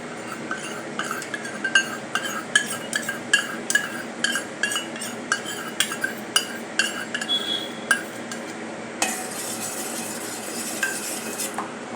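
Custard powder mixed with milk is poured into a pot and stirred, a spoon clinking and scraping against the metal in a regular rhythm of sharp taps, close by, ending with a brief sizzling wash.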